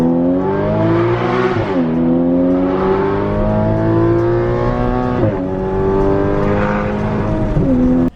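Porsche Cayman 981 with a straight pipe exhaust accelerating hard, a loud, raspy engine note climbing steadily through three pulls with quick shifts between them, close to the microphone.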